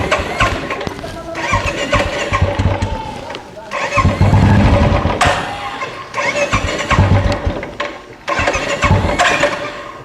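A vehicle engine cranks and catches in repeated surges, then settles into a running rumble. It sits close up and fairly loud under voices, in a village scene from a Marathi TV serial.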